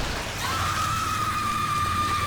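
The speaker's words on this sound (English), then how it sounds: "that screaming you hear is Laura" The monster Laura screams in the horror video game The Evil Within, a single sustained, thin wail held steadily for about two seconds over a constant hiss of rain-like background noise.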